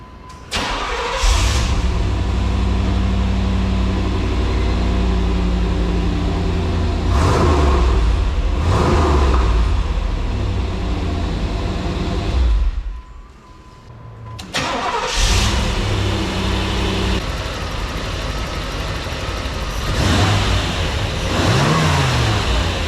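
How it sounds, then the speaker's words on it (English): A 1987 Pontiac Trans Am engine starts and runs loudly up close, revving at times, cuts out briefly, then restarts and keeps running. "This engine's running."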